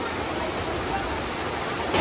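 A waterfall and river on the slopes of Mount Merbabu fill the scene with a steady, broadband rush that stays even and close throughout.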